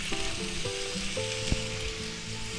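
Cucumbers sizzling in an oiled pan for a spicy chicken stir-fry, a steady bright fry with a few clinks and scrapes of utensils against the pan.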